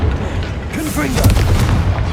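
A Confringo fire curse cast in the Hogwarts Legacy wizarding game bursts with a loud, booming blast, several crackling impacts and rumbling tails overlapping at close range, with faint game voices mixed in.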